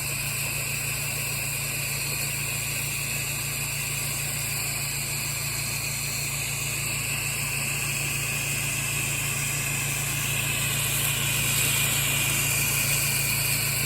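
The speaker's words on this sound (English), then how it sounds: "hitting the X-Jet rinse on the gutter." A pressure washer engine runs steadily close by while an X-Jet rinses a house gutter, a constant droning hum with a high whine that swells slightly toward the end.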